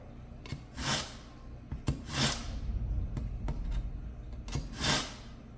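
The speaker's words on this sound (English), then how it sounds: "I like to sharpen my knives as I use them, so I bought this really nifty knife sharpener off of Amazon" A kitchen knife is drawn through a handheld knife sharpener in several separate strokes, each a short, bright scraping swish, close and fairly faint with quiet gaps between, no talk.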